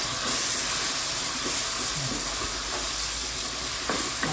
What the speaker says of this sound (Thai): ใส่น้ำปรุงลงไปแล้ว ผัดให้หอม